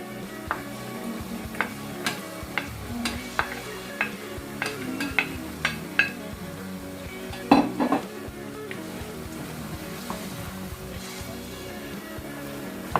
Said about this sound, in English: Now the next thing I have to do, I have to put the carrots.